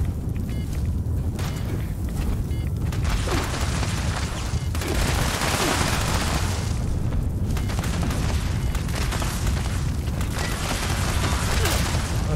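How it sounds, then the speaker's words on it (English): Plasma gun fire in a video game, a dense, continuous roar of booming blasts and crackling shots that sits loud and steady throughout, with scattered explosive bursts layered over the battle noise. "Somebody with their plasma gun just completely missed."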